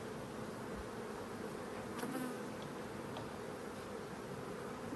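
A steady, dense buzz of many honey bees swarming close around a hive, continuous and fairly quiet, with no voices.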